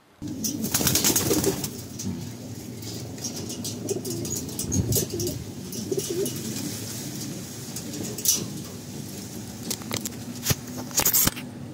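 A pet pigeon-like bird coos in a low, repeated rolling call close by, with occasional wing flaps and light clattering, no voices.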